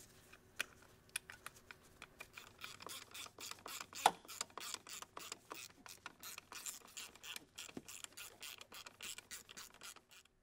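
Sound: ratchet starting bolts on a Ford 6.0 fuel part

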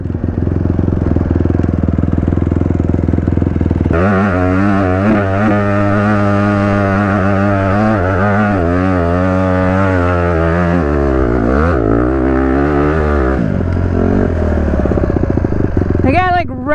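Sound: off-road vehicle engine revving to redline uphill

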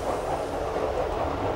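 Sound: Docklands Light Railway train passing a class 310 unit

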